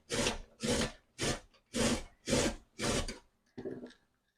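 Carrots rubbed against a grater for a low-carb egg roll bowl, seven rhythmic rasping strokes about half a second apart, close and fairly loud, the last one shorter before the sound stops.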